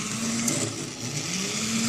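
Burlington locomotives on an HO scale model train run steadily, giving a continuous small-motor whir and hum with a thin whine, close and fairly quiet.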